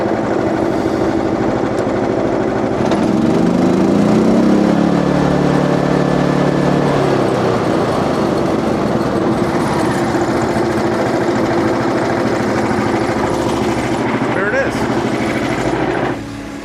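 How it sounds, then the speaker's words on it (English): A Frontier sawmill engine revs up and runs loud and steady while its band blade cuts oak, with a rising and falling engine pitch up close and a person talking over it. "Let's rev her up."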